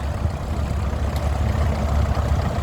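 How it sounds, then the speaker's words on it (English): Vintage Minneapolis Moline tractor at a classic vehicle rally in Boxford, Suffolk, its engine running with a low, steady chug nearby and no talk over it. "Minneapolis Moline next, coming round here, driven by Mr. Lambert."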